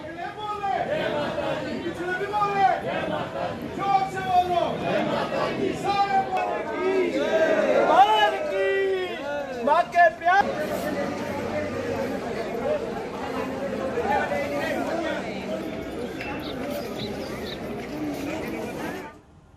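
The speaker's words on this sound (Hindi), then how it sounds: "जम्मू के कटरा स्थित वैष्णो देवी मंदिर में दर्शन पूजन के लिए भक्तों की भारी भीड़ लगी है" A dense crowd of devotees at the Vaishno Devi temple in Katra, many overlapping voices chattering and calling out in a continuous loud murmur that fills the whole stretch.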